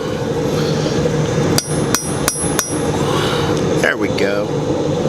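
A cross peen hammer forging a pineapple-twist bottle opener, with three or four sharp, ringing metallic strikes in a row over a steady shop hum, followed by fainter clinks.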